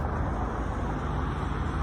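Steady roar of road traffic in London, Ontario, continuous engine and tire noise from passing cars, fairly loud and unbroken throughout.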